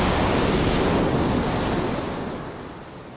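Surf breaks and washes along a remote Costa Rica beach shoreline, a broad steady roar of waves that fades slightly toward the end, with no voices.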